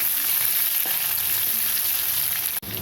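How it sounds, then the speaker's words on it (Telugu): Cumin seeds and onion frying in a pan, a steady close sizzle that runs without pause, with one brief clatter near the end. "ఇలా వేగితే సరిపోతుందండి. కొంచెం జీలకర్ర, అలానే ఒక ఉల్లిపాయ, ఇంకొక 2 మినిట్స్."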